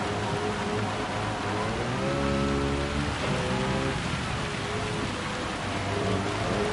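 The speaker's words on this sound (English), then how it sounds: "As you can see it was still raining a lot." Constant hiss of heavy rain pouring down in Gran Turismo 7, with a Citroën race car engine drone rising and falling beneath it.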